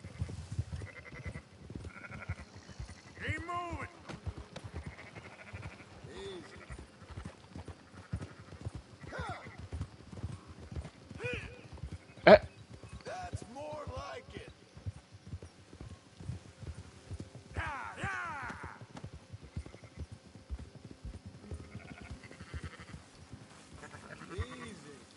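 Horse hooves clip-clop steadily while sheep bleat intermittently in Red Dead Redemption 2, a livestock-herding scene with busy mixed animal sounds and occasional voices.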